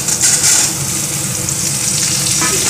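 Mixed vegetables (stems, eggplant, potato, radish) hitting hot oil with tempering spices: a loud, close, bright sizzle that flares at once and keeps hissing steadily, with faint stirring beneath.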